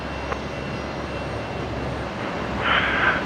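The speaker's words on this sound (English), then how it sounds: "I reckon that's on engine start right now" Jet engine starting up on the ground at Brisbane Airport at night, a steady broad roar with a rising whine near the end, heard from a distance.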